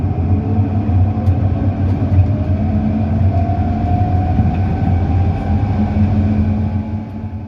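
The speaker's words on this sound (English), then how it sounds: "we'll leave you with a sound of the car being driven along a road, much quieter than it was before with the new Propshaft" A vintage Enfield electric car rolls along a road with a new propshaft fitted, giving a steady low drivetrain rumble and road noise with a faint rising whine, heard continuously from inside the car.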